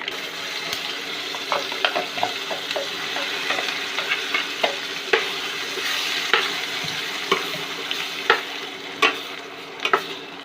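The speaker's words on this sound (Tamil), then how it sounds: "இப்போ ஒரு கொத்து கருவேப்பிலை சேர்த்துடலாம். இப்போ நல்லா பொரிஞ்சிருச்சு." A bunch of curry leaves crackles in hot oil as tempering for brinjal pachadi, a loud, steady sizzle close up with sharp pops and spoon clicks scattered throughout and no speech.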